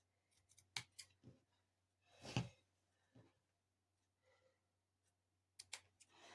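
Scissors snip through quilting fabric while a butterfly quilt block is trimmed, giving a few sharp, close cutting clicks spread out with quiet gaps between them.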